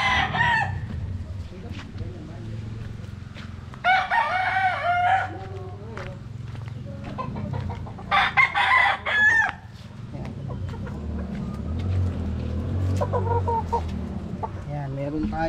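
Young gamecock stags on a farm crowing in several hoarse, uneven bursts, with clucking and low rumbling between calls, fairly close.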